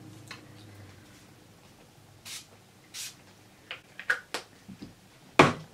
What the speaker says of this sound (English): I never sprayed my face for the video, so I have to do it now.